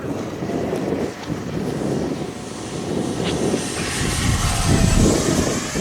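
A 3D-printed Cessna DragonFly model airplane drones past on its maiden flight, its small engine buzzing and swelling louder toward the end, with wind buffeting the microphone outdoors.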